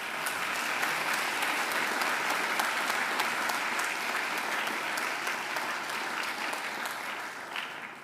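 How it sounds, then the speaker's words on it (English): Audience at a Macquarie University graduation ceremony breaks into sustained, dense applause, steady and loud for the whole stretch with a slight fade near the end. "I'm sure you'd like to give them a great round of applause as well"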